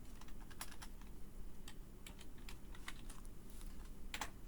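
Typing on a computer keyboard, a quiet irregular run of soft key clicks with a few sharper taps, close but faint against a low background hum, no talking.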